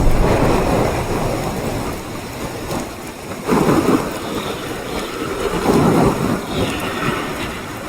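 A thunderstorm from the True Storms mod in the video game Fallout 4 rolls on with heavy steady rain and swelling rumbles of thunder, loud and unbroken, with no voices.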